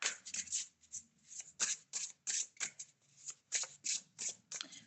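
A deck of cards being shuffled for a card reading, a quick series of crisp riffling bursts close by, about a dozen in steady rhythm, with no talk.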